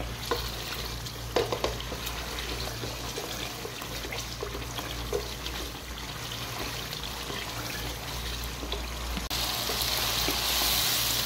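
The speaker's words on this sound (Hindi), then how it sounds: "कुकिंग ऑयल जो ½ कप था वो मैं इसके अंदर डाल दूंगी और इसकी अच्छे तरीके से भुनाई करूंगी मैं" Mutton frying in about half a cup of cooking oil, a low continuous sizzle with occasional stirring scrapes and clinks, quiet and close, without talk.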